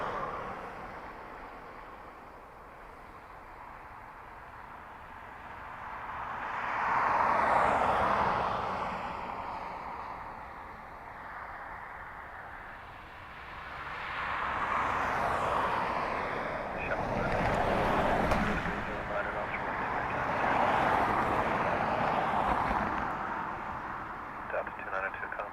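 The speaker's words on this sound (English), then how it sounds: "Aer Lingus A330 now from San Francisco." Aer Lingus A330 airliner arriving at Dublin Airport, its broad engine roar swelling and fading in several long waves, distant and blended with wind buffeting on the microphone, with voices talking over it.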